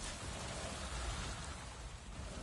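Rainstorm in the Avatar Frontiers of Pandora video game, a dense, even wash of heavy rain with a low rumbling undertone, steady and enveloping with no voices.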